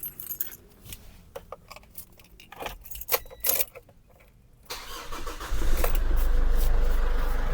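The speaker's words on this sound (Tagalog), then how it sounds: "Ngayon, i-start natin ang engine." A Ford Everest, its burnt ECU replaced and immobilizer disabled, is unlocked with clicks and key jangles, then the engine cranks and catches into a steady loud idle that holds through the final seconds.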